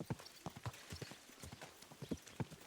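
Horse hooves clip-clop at a steady walking rhythm in Kingdom Come: Deliverance 2, the sharp thuds fairly faint and close, with no talk over them.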